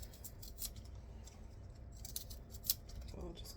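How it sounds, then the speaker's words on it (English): A knife trims the root ends off vegetables that are past their freshest, giving a few crisp, close cuts and snips over a quiet kitchen background. "So I'll just cut off the root end"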